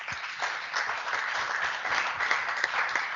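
An audience applauds sailor Sarah Haasreiter at an Ocean Race masterclass event, a steady, dense wash of many hands clapping for about three seconds with no voices over it.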